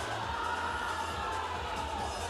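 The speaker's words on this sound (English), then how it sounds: "So it's a sellout crowd here. It's a massive crowd today." A sellout crowd fills the bleachers at a basketball game between the Solent Kestrels and Baltic Stars, producing a steady, loud roar of cheering and voices that holds evenly throughout.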